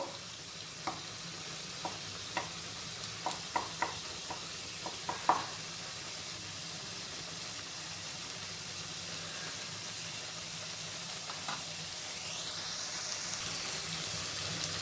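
Ginger garlic paste frying in a pan with potato pieces, a steady soft sizzle and hiss with a string of light knocks and stirring taps in the first few seconds, then a quieter continuous fry.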